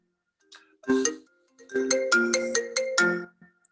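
A mobile phone ringtone plays a bright melodic tune in two bursts, a short phrase followed by a longer repeating run of tones, clear against a quiet room.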